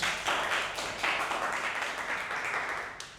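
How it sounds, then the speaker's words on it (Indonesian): An audience claps and applauds steadily throughout, a dense, close wash of hand claps with brief swells, no voices over it. "tepuk tangan lagi buat Wahyu"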